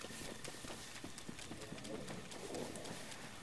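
Horses in the Zelda: Breath of the Wild video game, their hooves clip-clopping in a steady patter beneath a busy, continuous game soundscape, with a player talking over it throughout.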